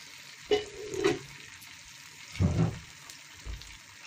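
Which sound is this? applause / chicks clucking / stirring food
stirring food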